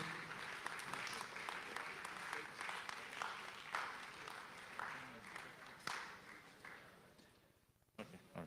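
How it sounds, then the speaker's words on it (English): An audience at an economic summit keeps up sustained applause, a steady wash of clapping that thins toward the end, with a voice speaking over it through much of the clip. "Please keep clapping."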